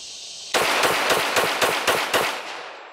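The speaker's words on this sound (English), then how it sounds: "let's go for a mag dump" A 1911 pistol emptying its magazine at a shooting range, with about seven loud, sharp shots fired in quick, fairly even succession, followed by a short echoing tail and no talking.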